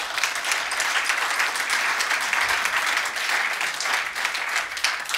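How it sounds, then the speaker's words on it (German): Steady applause rises from the congregation at a Christmas carol gathering at the BewegungPlus Burgdorf church, a full, even wash of clapping that runs loud and unbroken for about five seconds, with no voices over it. "Applaus für Lukas."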